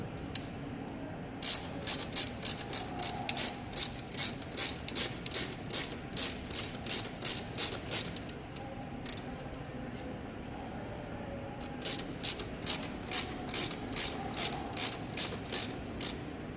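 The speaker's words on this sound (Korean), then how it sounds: "장력을 확인하고 12mm 라쳇으로 장력을 적당히 조절을 합니다" A 12mm ratchet clicks in quick rhythmic bursts while adjusting alternator belt tension on a Hyundai Avante AD, close and crisp, with a pause midway before a second run of clicks.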